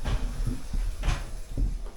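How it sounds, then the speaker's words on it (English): A new door being fitted in a kitchen during a rental property refurbishment is opened and shut, giving a few close wooden knocks and clunks over a low room rumble. "How does this door shut?"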